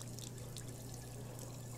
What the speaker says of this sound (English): let's get some water in there